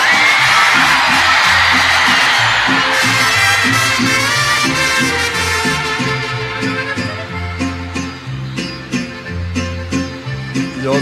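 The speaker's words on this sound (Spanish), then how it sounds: "Cuando yo levanto el sombrero, echen un grito todos." A crowd at a live corrido show lets out a loud, sustained grito all together on cue, and it fades into rhythmic band music.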